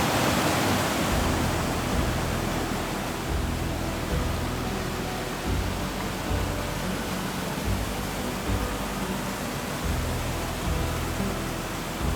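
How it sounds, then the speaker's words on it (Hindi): A mountain stream in Upper Dir rushes loudly and steadily, a dense, unbroken roar of flowing water heard up close with no voices. "पानी का फ्लो देखिए।"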